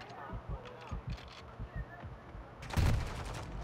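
Shotgun blasts ring out in Call of Duty Modern Warfare 2 multiplayer, a quick series of punchy, muffled shots followed by one louder, heavier burst near the end.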